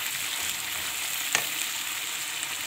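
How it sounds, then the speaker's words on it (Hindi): Masala with salt, turmeric and red chilli fries in a pan for gajar methi keema, giving a steady, close sizzle with one sharp crackle partway through. "तो अभी इसको मसाला भूनने देते हैं।"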